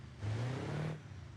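Heavy diesel truck engine in the BeamNG driving game, a single short rev that swells loud, holds for just under a second, then drops back to a low idle hum.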